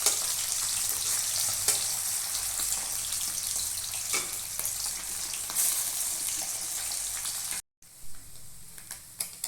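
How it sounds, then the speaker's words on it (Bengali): Remaining fish frying in oil in a home kitchen while Bengali masoor dal is made, a steady dense sizzle that runs on and breaks off briefly near the end before resuming quieter. "এবার বাকি মাছগুলো ভেজে নেব।"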